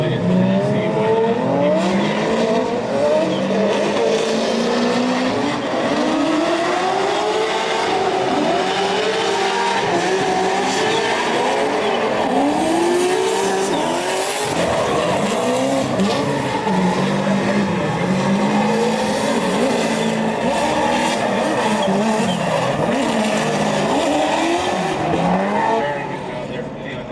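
A BMW E46 race car with a built engine drifts at a pro-am competition, its engine roaring and revving continuously with repeated tire squeal and skidding, loud and close throughout with a commentator's voice running underneath.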